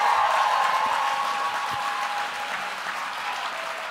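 At a youth poetry slam competition, the audience claps for a poet after scores are read, a full room of applause with some cheering, slowly easing in volume.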